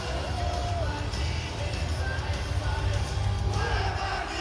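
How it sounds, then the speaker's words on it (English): An arena crowd at AEW Dynamite in Winnipeg reacts to Chris Jericho's return with a steady, diffuse roar of cheering and yelling that sounds moderately distant and holds fairly even throughout. "I was a little disappointed in the crowd reaction, and I think he was too"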